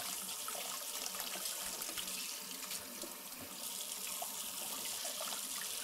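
Hot water runs from a tap while an embroidery block is rinsed in a sink, a steady bright hiss and splash with faint trickling throughout and no talking.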